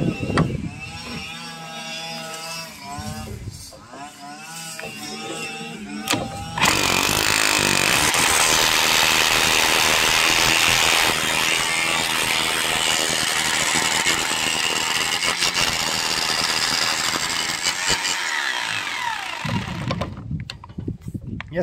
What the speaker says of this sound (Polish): Aby ta młota wiertarka taka jest do kitu.